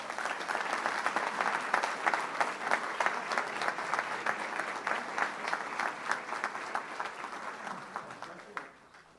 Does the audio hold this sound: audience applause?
yes